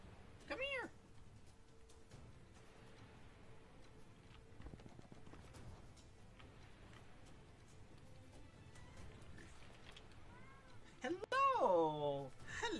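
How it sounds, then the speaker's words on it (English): A cat meows several times, close and clear, with a short call near the start and a longer, louder drawn-out meow near the end over quiet background noise. "I can hear my cat."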